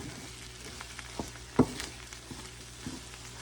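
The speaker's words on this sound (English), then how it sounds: "now I put a little bit of butter and the eggs in the pan" Eggs fry in butter in a pan with a quiet, steady sizzle, punctuated by a few light taps and one sharper clack of a utensil near the middle.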